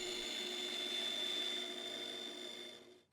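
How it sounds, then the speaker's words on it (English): Bandsaw cutting wood along a drawn line for a circle-cutting jig, a steady close whine with high ringing tones that fades as the cut finishes and the saw stops. "Now, I turn on the bandsaw and cut along the line we just drew"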